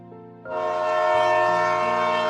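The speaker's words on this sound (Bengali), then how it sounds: "মুর্শিদাবাদ ট্রেন সশব্দে আসিয়া প্ল্যাটফর্মে দাঁড়াইল" A train horn blares loud and sustained over the rumble of a train pulling in at a platform, steady and close.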